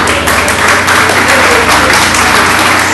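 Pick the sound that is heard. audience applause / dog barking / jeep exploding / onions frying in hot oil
audience applause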